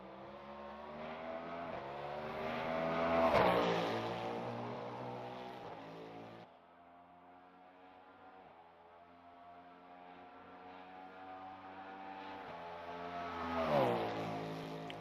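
Camaro NASCAR stock car in the racing game Le Mans Ultimate, heard from outside. Its engine swells loudly as it passes, drops to a lower drone, then roars up again in a second pass, with no talking.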